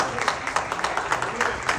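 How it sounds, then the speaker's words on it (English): Applause from a crowd at a trailer launch event for the series Citadel: Honey Bunny, a steady dense patter of many hands clapping at moderate volume with speech-like sounds mixed in. "Give quadruple round of applause."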